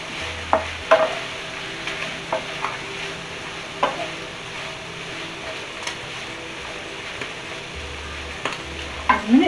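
Bacon frying in a pan and being stirred: a soft continuous sizzle under close, irregular scrapes and taps of the utensil against the pan, with no talk.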